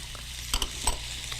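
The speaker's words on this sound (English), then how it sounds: "y'all hear that sizzle? We're cooking now." Fresh tomatoes sizzle in a hot pan while jambalaya cooks, a steady close frying hiss with a few sharp stirring scrapes and pops.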